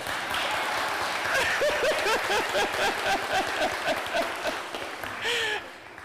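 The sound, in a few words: applause in church congregation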